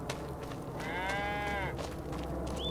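A dairy cow in Farming Simulator 25 lets out a single drawn-out moo lasting under a second, mid-distance, over a steady farmyard ambience.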